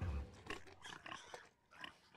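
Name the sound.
pigs grunting in Hunter x Hunter anime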